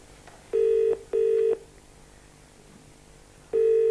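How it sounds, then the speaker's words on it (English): A telephone ringing out on the line during a call placed from a 1990 television studio, with three loud, steady electronic ring tones in a short pair followed by a pause and a third, heard alone. "It's ringing out."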